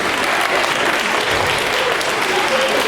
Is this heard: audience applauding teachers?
yes